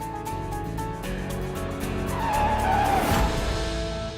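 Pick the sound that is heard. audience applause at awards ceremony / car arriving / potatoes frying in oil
car arriving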